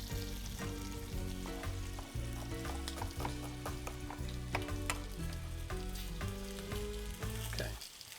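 Onion and garlic fry in a pan for shishito peppers, a steady close sizzle with crackling pops and occasional utensil clicks running throughout, with no talking.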